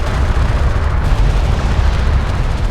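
A destroyed hostile raider craft explodes in the desert battle of Homeworld: Deserts of Kharak, a loud, sustained low rumbling boom that fills the whole moment with no talk over it.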